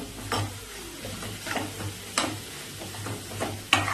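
Masala paste with roasted peanuts sautéed in hot oil for a dal dhemse gravy, giving a soft steady sizzle broken by several scraping stirs of a spoon against the pan, close and unaccompanied by talk.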